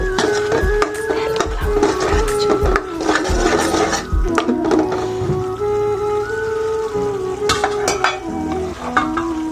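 A spoon or spatula stirs a fish and vegetable curry in a metal pan, scraping and clinking in irregular bursts close up, over a steady simmering hiss and a faint background hum.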